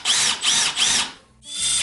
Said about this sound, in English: We are screwing these plates on. It's what supports the bed.